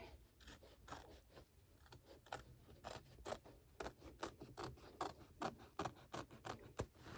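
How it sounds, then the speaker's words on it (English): Scissors snip around embroidered stitching on a towel, a quick series of close, crisp cuts with soft rubbing of fabric between them, no talking. "So I'm just going to trim around that stitching"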